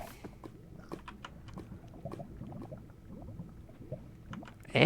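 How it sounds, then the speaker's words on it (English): Lava in the Minecraft video game bubbles and pops steadily as a series of soft, irregular gurgling blips, with a louder burst at the end. "Do I hear lava as well?"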